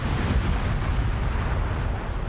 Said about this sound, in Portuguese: O impacto liberou energia comparável à explosão de uma bomba de hidrogênio